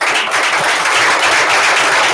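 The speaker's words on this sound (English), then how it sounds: "Ken Baldwin, give him a round of applause" Steady applause from an audience at a sales meeting as a staff member is introduced, a dense, even wash of clapping holding at a constant level throughout with no voices on top.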